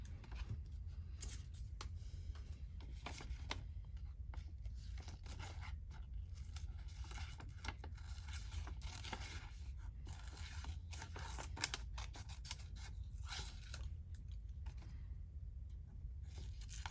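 Small pink-handled scissors cut out a piece of paper during a craft session, a quiet series of close, irregular snipping and rustling strokes that continue over several seconds with no talking.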